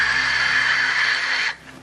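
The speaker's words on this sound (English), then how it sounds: "what you hear is mostly wind noise as the parachute's descending through the atmosphere" Wind noise picked up by the Huygens probe's acoustic sensor as it descended by parachute through Titan's atmosphere: a steady hissing rush that drops away sharply near the end.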